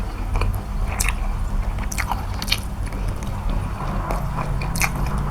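Close, loud biting and chewing of braised pork belly with eggs and rice, moist crunches and squishes repeating steadily with no talk.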